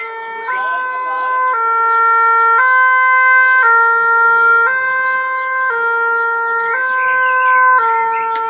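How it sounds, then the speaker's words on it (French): A fire engine siren wails loudly in a steady two-tone hi-lo pattern as the truck passes, alternating pitch about once a second and holding strong throughout, with faint talk underneath. "il y a les pompiers, je sais pas si vous les entendez"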